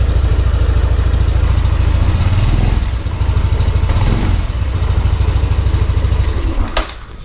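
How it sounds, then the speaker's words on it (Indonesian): A motorcycle engine running on worn Castrol Neutron oil idles close by with a steady rapid pulsing throb and mechanical clatter, dipping briefly twice, then a sharp click near the end as it winds down. "Suara mesin kayak gini."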